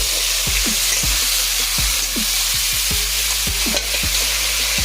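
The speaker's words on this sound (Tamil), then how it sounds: "இதே நண்டை இப்போ எண்ணெயில் வறுக்க போகிறோம்" Crab fries in hot oil for a crab kulambu, a loud, dense sizzle crackling throughout, with regular low thumps of stirring.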